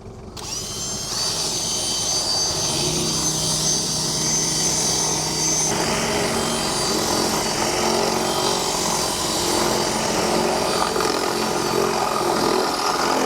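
A drill runs continuously while boring holes into a car's suspension struts, a loud, sustained whine and grind with slight shifts in pitch and no talk.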